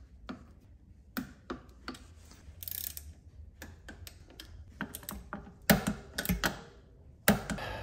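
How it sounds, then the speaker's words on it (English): A torque wrench tightens the brake caliper bolts on a Trek Powerfly 4 e-bike being upgraded to Shimano XT 8120 brakes: sparse close ratcheting ticks and clicks, with a few sharper metallic snaps near the end. "torquing down the brake caliper bolts, and I set this to 8 Newton meters."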